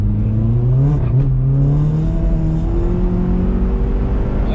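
A modified mk1 Skoda Octavia vRS estate accelerates hard down a straight, its loud engine note climbing steadily in pitch with a continuous roar and no voices.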